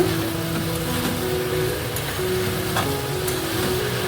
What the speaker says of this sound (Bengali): আমি ভালো করে গাঠি কচু আলু চিংড়ি মাছটা কষিয়ে নেব